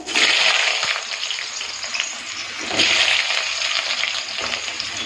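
Potatoes frying in hot mustard oil in a kadai give a loud, steady sizzle that swells again midway, close and without voices.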